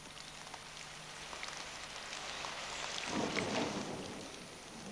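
Rain falling on zebras in Etosha, a soft steady patter of outdoor rainfall with a faint low rumble swelling briefly midway, quiet and distant, with no voices.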